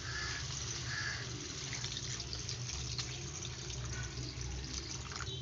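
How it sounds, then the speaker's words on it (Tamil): Water is poured steadily into a pot of Tamil-style fish curry (meen kulambu), a continuous wash of splashing and running liquid with no voices. "இப்போ தேவையான அளவுக்கு தண்ணி சேர்த்துக்கலாம்."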